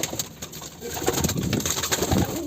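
A pigeon coos close by, soft repeated throaty calls rising and falling over a short stretch, with no voices.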